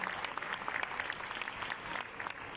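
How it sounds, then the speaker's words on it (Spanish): Continuous crowd applause at an anniversary celebration for a reopened venue, a dense, even patter of many hands heard at a distance and fairly quiet. "Aplauso grande para toda esta organización espectacular de todos estos días de festejo."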